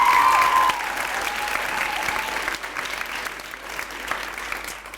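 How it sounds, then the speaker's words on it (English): A school assembly audience applauds at an Africa Day event, a steady wash of many hands clapping together for several seconds, with a brief sustained tone at the start and no talk over it. "let's give her a big round of applause"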